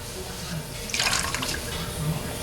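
Water spraying onto a Billet Specialties car wheel to wet it down for polishing, a short hissing splash that rises for about half a second in the middle of steady background noise.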